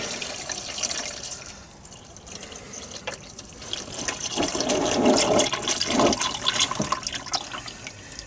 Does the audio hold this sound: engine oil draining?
yes